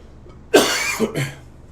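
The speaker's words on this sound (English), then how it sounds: "And now I'm coughing, of course." A single person coughs twice in quick succession, close and fairly loud, with quiet surroundings before and after.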